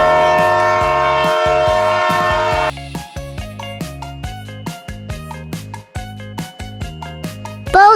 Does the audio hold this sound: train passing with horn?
yes